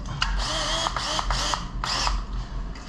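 A power drill with a 1/2 inch bit bores a hole during a Teraflex suspension lift install, whining in several short bursts with brief pauses, loud and close.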